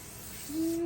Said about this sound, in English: we're gonna spray it in here, and we're gonna spray it on the grip